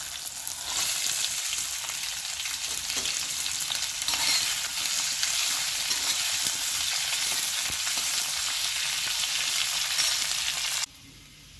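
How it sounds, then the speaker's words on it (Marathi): Ivy gourd (tondli) sautéing in a little oil, a loud continuous frying hiss with occasional stirring scrapes, steady for about ten seconds before cutting off abruptly near the end. "यामध्ये आपण आता तोंडली घालून घेणार आहोत. याला 3 ते 4 मिनिट आपण छान परतून घेणार आहोत."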